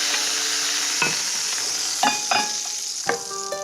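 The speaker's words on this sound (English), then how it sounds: "I will continue to flip and fry and finish them" Crespelle crepes frying in a pan as they are flipped, a steady hiss of sizzling broken by several sharp clinks and scrapes of a utensil against the pan, with no talk.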